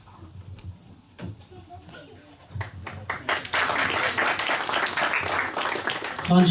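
Congregation at a church gathering breaks into hand clapping, starting with a few scattered claps and swelling into sustained, fairly loud group applause with voices mixed in.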